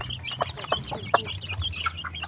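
An Asil hen clucks in short, repeated bursts amid other nearby chickens, with a steady low hum underneath.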